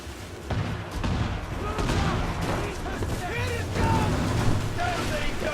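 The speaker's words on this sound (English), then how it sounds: "Yeah, so that was the heavy shot." Heavy-shot cannon fire from a ship in the Assassin's Creed IV naval combat game, a dense barrage of booming blasts rolling over a continuous low rumble, loud and close throughout.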